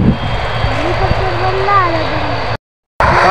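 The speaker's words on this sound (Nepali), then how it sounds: "तल प्लेन उडिरहेको छ उता हेलिकप्टर आइरहेको छ" An airplane flies overhead with a steady, broad engine roar that holds at an even loudness. A helicopter is also nearby. Voices speak over the drone before a brief cut to silence.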